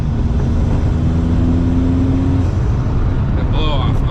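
A 1980 VW Rabbit with a TDI diesel swap roars loudly and continuously from close by. Near the end, a rising turbo whistle and hiss cut through the engine noise.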